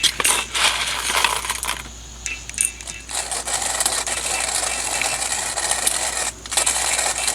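A hand grinder crushes fresh coffee beans for camp cowboy coffee at a state park, a steady gritty crunching and rasping that runs almost unbroken, with a short lull near the middle.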